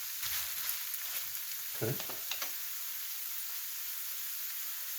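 A Thai spicy basil stir-fry with eggplant sizzles in a skillet, giving a loud, steady hiss with a few soft stirring knocks. A voice briefly says one word.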